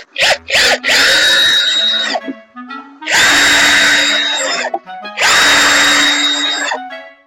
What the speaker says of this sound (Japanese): ビスで留めます。